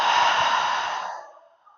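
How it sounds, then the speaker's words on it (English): A single slow exhale through the mouth during a yoga session for lower back and sciatica, a close, breathy sigh that fades out over about a second and a half. "and exhaling out through the mouth."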